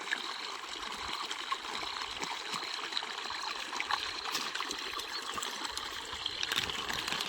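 Water is poured from a container, a steady trickling stream with light splashing that runs continuously and fairly close, no talking.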